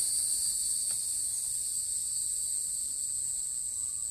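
Cicadas drone in a continuous, high-pitched buzz that holds steady throughout, with no voices.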